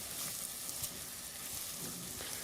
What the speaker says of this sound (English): as we start just sauteing off the onions